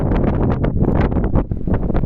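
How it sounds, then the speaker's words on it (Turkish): Strong wind buffets the microphone on a high mountain plateau in the Kadirli uplands, a loud continuous roaring rush with gusting surges throughout. "Ciddi bir rüzgar esiyor bugün."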